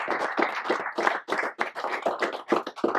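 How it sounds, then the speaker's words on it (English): A few people clap for a candidate at a Young Republican club presidential debate, sparse uneven hand claps close by, thin and brief rather than a full ovation. "I think it would be appropriate if we give our candidate a round of applause."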